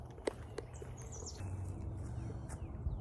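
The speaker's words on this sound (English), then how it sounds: "Lots of little songbirds, which is cool." Small songbirds chirp along a bayou hiking trail, with short, faint tweets scattered over a quiet outdoor background, fairly distant and without talk.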